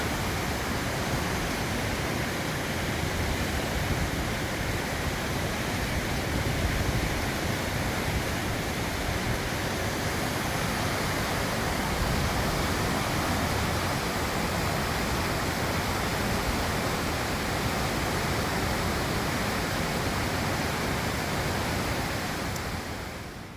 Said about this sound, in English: it's done nothing but rain today, and the river has filled up again.